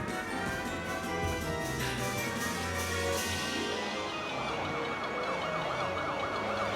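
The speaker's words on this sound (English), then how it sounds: "Wow, and police cars." Police car sirens wail loudly and continuously in the Policenauts video game, their rising and falling tones overlapping in a dense, unbroken layer.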